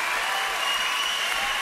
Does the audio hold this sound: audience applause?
yes